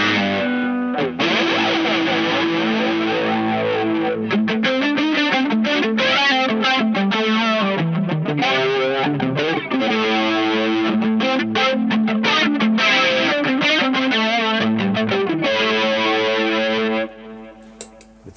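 An electric guitar plays through a PastFX Elastic Mattress flanger with distortion, giving a thick, sweeping, swirling distorted tone. It carries sustained chords and riffs for most of the passage, then cuts off near the end.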